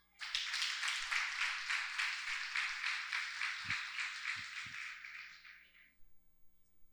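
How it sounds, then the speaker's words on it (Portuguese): Audience applause at a Café e Negócios business gathering: a fairly quiet, even round of clapping rises quickly, holds for several seconds, then tapers off, with a couple of low thumps in the background. "Eu queria chamar aqui o Dr. Clóvis, salve de palmas para ele."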